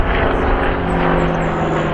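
Douglas A-1 Skyraider propeller airplane making a slow, low pass at the Selfridge air show with gear down and flaps out, a steady loud droning engine and prop roar throughout.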